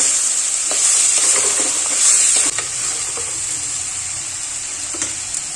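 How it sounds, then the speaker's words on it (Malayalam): A spoon stirs banana stem curry in a hot pan, giving a steady close sizzle with soft scraping strokes, louder in the first half and settling to a gentler fry. "നന്നായിട്ടൊന്ന് ഇളക്കി യോജിപ്പിക്കുക"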